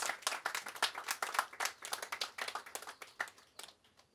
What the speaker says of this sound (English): I think we need to give them a round of applause for that sacrifice